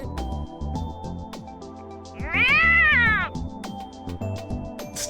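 A cat sound effect from the video game Steins;Gate 0: one loud, drawn-out meow rising and falling over a steady music bed, close and clear.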